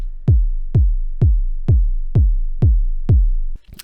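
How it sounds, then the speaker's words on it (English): A synthesized kick drum built from a clarinet sample thumps in seven evenly spaced, deep booming hits. Each hit has a sharp click and a quick pitch drop into a decaying low tail, loud and alone before stopping abruptly. "I made a kick drum out of it, so the kick sounds like this"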